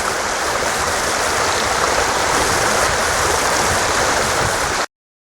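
A stream near the Wakidenomya-jinja waterfalls rushes in a loud, steady broadband wash beside a track, unbroken for about five seconds before cutting off abruptly.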